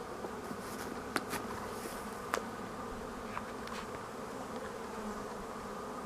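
Honeybees at hives standing in shade, a dense, steady buzzing hum from many insects, fairly quiet and continuous, with a few louder bees passing close.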